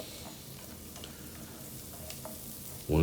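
Crushed garlic and chopped ginger sautéing in a hot pan, a steady close sizzle and hiss that continues unbroken, ending in a sudden louder clatter.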